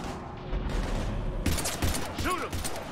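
Heavy gunfire in the sci-fi video game Mass Effect 3: a steady rattle of shots under faint background game voices, growing denser and louder midway.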